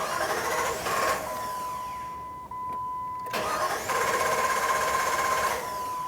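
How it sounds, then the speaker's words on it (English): A 1999-2004 Jeep Grand Cherokee engine cranks with a whirring starter and catches. It runs at a steady idle with a constant tone, dips briefly, then revs up again, close and loud. "if the vehicle starts, let it run until it just dies out"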